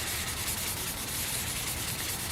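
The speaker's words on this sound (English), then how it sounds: "whenever you do what's called wet sanding or color sanding" Steady, continuous wet sanding of car paint with sandpaper lubricated by quick detailer, a rubbing, hissy, wet texture, close up and even in level throughout, no voices.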